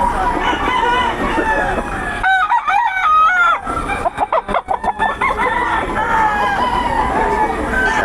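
Several roosters crow over and over at a busy fighting-cock market in Bocaue, loud and close, with one long crow standing out in the middle and a murmur of crowd noise beneath.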